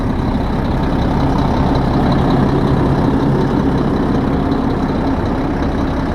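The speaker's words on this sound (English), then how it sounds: "The truck is running." A 2001 Mack 600CXU truck engine idles at an auction north of Gettysburg, South Dakota, giving a steady, close, unbroken low rumble with no talking.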